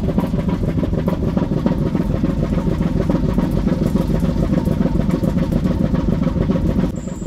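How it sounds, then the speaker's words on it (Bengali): An 1800-horsepower Daihatsu diesel engine aboard a Dhaka–Barishal passenger launch drones loudly and steadily, a dense continuous rumble with rapid mechanical clatter filling the engine room throughout. "1800 হর্স পাওয়ারের ডাইহার্সো ইঞ্জিনের আওয়াজ শোনা যাচ্ছে এখান থেকে।"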